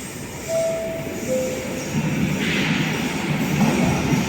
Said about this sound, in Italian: Il treno alta velocità Frecciarossa 97-23 di Trenitalia, proveniente da Milano Centrale e diretto a Venezia Santa Lucia